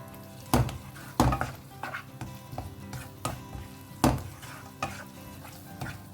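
Chicken sausage chilli is stirred in a pan, with loud spoon scrapes and knocks landing every second or so over a low, steady frying sizzle; no one speaks.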